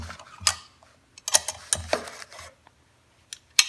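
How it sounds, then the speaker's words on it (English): A bolt being tightened on a vehicle's ride-height setup, giving a few scattered metallic ratcheting clicks and clanks in short bursts, close by, with pauses between them and no talking. "And tighten this one up."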